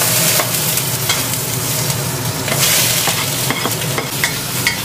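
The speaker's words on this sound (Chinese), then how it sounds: "这个就随便炒一下，炒熟就行了" Cucumber tossed with garlic and chili in a hot wok, sizzling steadily up close while a spatula scrapes and clacks against the metal in quick irregular stirs.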